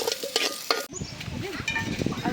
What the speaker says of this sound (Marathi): कांदा लाल होपर्यंत आपण हे करून घ्यायचं